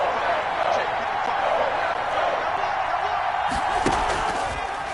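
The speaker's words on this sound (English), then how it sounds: "The crowd getting into it as we come up on a big 3rd down." A stadium crowd in a PS4 American football video game roars in a steady, broad wash of cheering, swelling slightly near the end, with a few sharp thuds from play.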